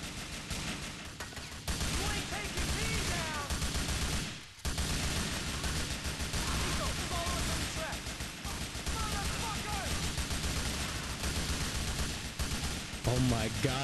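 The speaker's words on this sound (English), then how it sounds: "the amount of bullets going off is insane" Gunfire in the video game GTA 4, with a dense, continuous barrage of overlapping shots and bursts filling the whole stretch at steady loudness, briefly dipping once.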